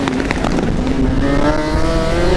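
A Formula Student race car runs roughly during an endurance event, its engine loud and near with a rising pitch under uneven, sputtering pulses.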